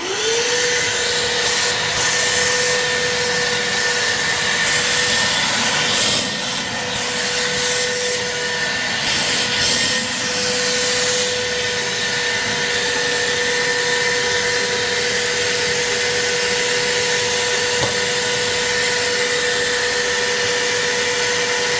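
A Milwaukee M18 FUEL 2.5 gallon cordless wet/dry vacuum runs loud and close for the whole stretch, a steady roaring hum with a constant whine and some rubbing, shifting bumps in the airflow.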